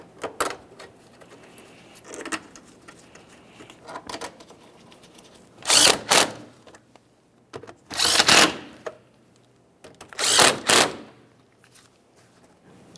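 Mounting bolts on the air inlet tube of a 2009-2014 Nissan Maxima with a 3.5L V6 are tightened, giving faint ratchet clicks at first, then three loud, bursty runs of rapid ratcheting a few seconds apart.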